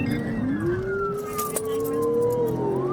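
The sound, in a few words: police car siren during pursuit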